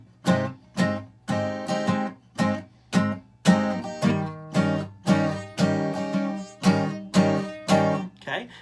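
Rhythmic strummed blues chord progression, two measures of F then two of C, steady repeated strokes shifting between chord shapes, close and clear with no voice.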